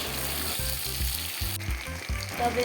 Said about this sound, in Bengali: এখানে আলুগুলো একটু ফ্রাই করে নিচ্ছি